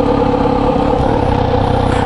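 A Kawasaki Z900RS motorcycle fitted with a new K-Factory muffler idles steadily and loudly up close, a continuous low engine rumble with no talk over it.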